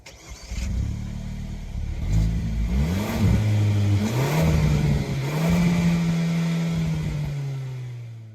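Hyundai Verna 1.5 Turbo engine revving through its hidden exhaust, rising and falling in several strong pulls before settling to a steady, slowly fading drone, loud and close with no talking.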